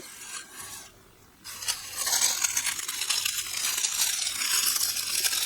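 Dry succulent leaves crunch and rasp as they are crushed, starting with a short quiet pause, then a steady, close crackling that continues without a break.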